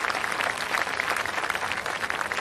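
A studio audience applauds an honoured guest, Sanem Aedin, with steady, dense clapping that stays close and fairly loud throughout, with no voices heard over it.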